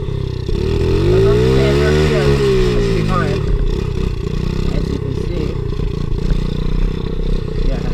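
Pit bike motorcycle engine running close by, its pitch rising and falling through a rev early on before settling into a steady loud drone with some clatter.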